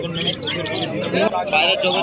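Pigeons for sale at a busy rural market coo and chirp close by, brief overlapping calls over a murmur of crowd voices and nearby talk.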